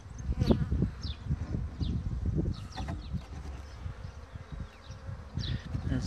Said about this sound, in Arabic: هذا طرد نحل جديد، ما زال دخل إلى الصندوق الآن